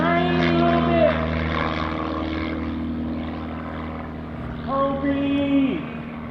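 A propeller airplane drones steadily overhead at an airshow comedy act, its engine note rising and shifting in pitch, carried over a crackly public-address feed.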